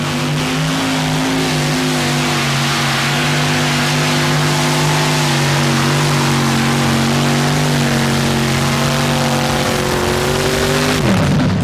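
A heavy pulling vehicle with two crank-to-crank engines roars continuously at high revs at a 1987 Fort Wayne pulling event, its loud, steady drone dropping in pitch at the very end.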